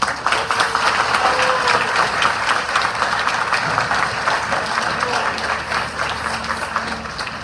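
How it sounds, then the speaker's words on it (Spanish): A church congregation applauds newly ordained priests at an ordination Mass. Broad, sustained clapping fills the space at a moderate level, with faint tonal hums underneath. "le damos un aplauso."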